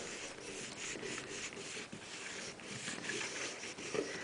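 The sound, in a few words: rubbing a bar of compound onto a leather strop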